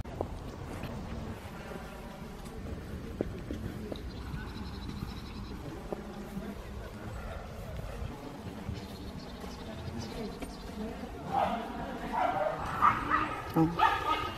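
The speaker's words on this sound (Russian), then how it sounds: "там уже здороваются, слышите, собаки." Dogs barking in a snowy lakeside park in Poland on New Year's Day, scattered yaps mixed into outdoor ambience under steady conversation, growing busier near the end.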